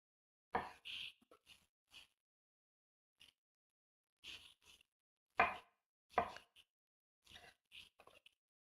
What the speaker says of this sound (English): So I slice them all like this.